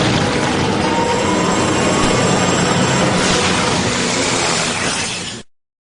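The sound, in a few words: helicopter flying in cartoon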